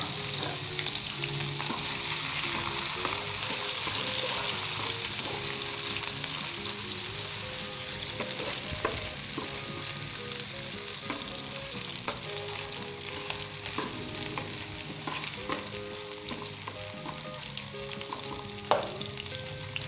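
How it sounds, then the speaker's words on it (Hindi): Chopped ginger and onion frying in smoking-hot oil, a dense continuous sizzle and crackle holding steady and close throughout, with faint occasional stirring clicks and no voices. "दोस्तों अदरक और प्याज को हम लाइट गोल्डन ब्राउन करेंगे।"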